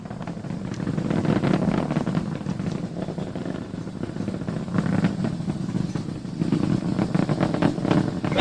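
Rocket engines roar through launch ascent as they throttle down ahead of maximum dynamic pressure, a steady, loud, broadband rumble that swells and eases in waves and carries to the end without voices.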